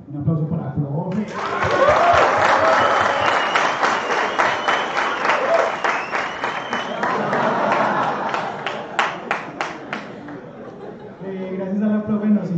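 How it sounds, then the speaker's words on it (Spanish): An audience at a tech meetup applauds a teacher, with loud, sustained clapping and crowd chatter that thins into scattered claps, with voices before and after. "un aplauso para la profe"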